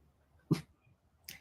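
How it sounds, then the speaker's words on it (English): Two short, sharp yaps from a small dog, spaced about a second apart, against a quiet background. "Please stop barking, little dog, because you're just being annoying"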